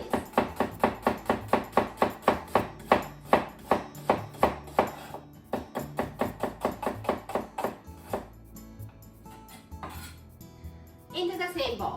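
A knife slices a peeled vegetable into thin slices on a board in a home kitchen, giving a fast, even series of sharp close taps, roughly four per second, that pause briefly and then resume.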